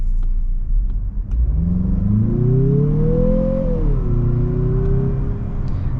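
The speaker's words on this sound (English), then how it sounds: "This is a turbocharged engine, and the turbo needs to spool up" A turbocharged 2022 Mazda CX-50 SUV accelerates hard from a standstill, its engine note rising steadily in pitch over a few seconds, dipping once at a shift, then pulling on at a loud, close, continuous drone with no talk.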